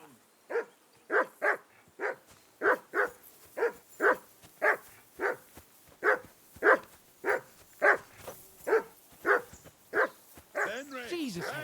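A dog barks repeatedly in Kingdom Come: Deliverance 2, a steady run of about twenty sharp, evenly spaced barks at moderate distance, ending with a brief whine.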